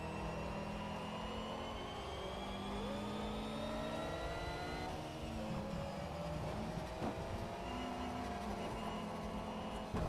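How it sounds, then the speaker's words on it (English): A rival race car's engine in Shift 2 Unleashed, a steady droning whine with shifting pitch layered over the player's own engine, continuous and fairly faint throughout. "I hear another car behind me, I don't know what it is"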